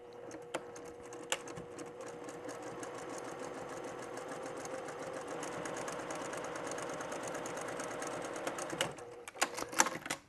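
A sewing machine runs steadily as it stitches medium and dark fabric strips for a buffalo plaid quilt, a close, even whirring hum with a few clicks at the start and end.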